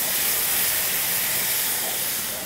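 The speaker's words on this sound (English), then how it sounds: "this is a little bit of balsamic vinegar and orange juice, and I'm going to use this to deglaze my pan" Balsamic vinegar and orange juice hit a hot pan as it is deglazed, giving a loud, steady, broadband hiss and sizzle that holds without a break and eases slightly toward the end, with no voices.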